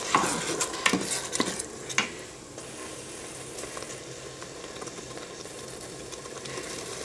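Food being stirred in a pot, a run of quick clattering scrapes and knocks from a utensil over the first two seconds, then a softer steady cooking sizzle continues alone, close by.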